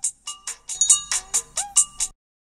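A phone ringtone plays a repeated pattern of about nine bright, evenly spaced melodic pulses, loud and close with no talking, then stops abruptly.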